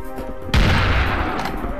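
A sudden loud burst of gunfire in the video game Serious Sam erupts after a brief quiet, echoing and decaying into a rumbling tail.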